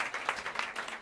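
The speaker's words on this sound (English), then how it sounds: "Please help me welcome them to the stage as I mention their names with some warm applause." Warm applause from a jazz club audience at Smalls in New York City as the quartet's musicians are introduced, a brief burst of scattered clapping.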